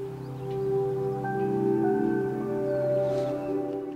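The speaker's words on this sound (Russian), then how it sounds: "Также есть очень интересная фишка при открытии и закрытии дверей – это звуковое сопровождение." A soft electronic chime plays with a ZEEKR 009 car door opening and closing, a gentle sustained melody of a few smooth tones gliding over a steady low hum, fairly quiet and even.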